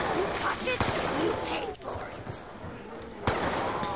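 Gunfire in Black Ops 2 Zombies on the Die Rise map, a few sharp shots with broadband bursts standing out over continuous game noise, while a player talks over it.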